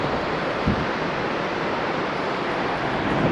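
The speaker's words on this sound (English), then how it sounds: "Just coming to an overlook of the other waterfall we've been looking at" Dense, unbroken roar of an Icelandic waterfall heard from a distant overlook, a broad steady wash of noise with no breaks and no voices.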